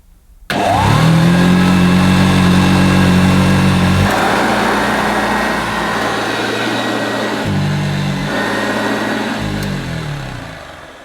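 Vintage Hoover Junior 1334A upright vacuum cleaner switched on at the wall, its motor surging up to a loud, close whine and then holding a steady roar, with slight shifts in pitch as it runs.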